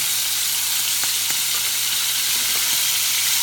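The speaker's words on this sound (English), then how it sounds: "we have good-looking scallops that need a flip, seared perfectly" Scallops searing in a hot oiled pan, a loud, steady close-up sizzle with a faint hum and a few soft clicks or taps, no voices.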